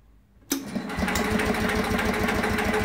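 An Onan square-head generator engine on an RV cranks over after a quiet start, the starter churning in a fast, even rhythm, close and loud, with no talking.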